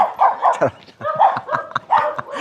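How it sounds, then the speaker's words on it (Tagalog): A dog barks and yips repeatedly in quick bursts, fairly close, with some whimpering tones between barks. "Yung aso."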